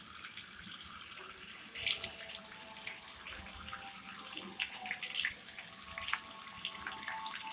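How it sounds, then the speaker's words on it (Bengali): Potato stick chips sizzle in hot oil in a kadai, a continuous soft crackling hiss with small popping bursts as more pieces drop in one by one. "তেল দিয়ে এই যে এখন একটা একটা করে এইভাবে দিয়ে দিব তেলের মধ্যে।"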